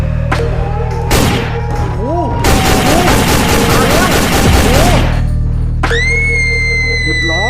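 Rapid bursts of gunfire in a Granny and Siren Head horror video game, loud repeated volleys mixed with tonal game sound effects and rising chimes, with no clear talk over it.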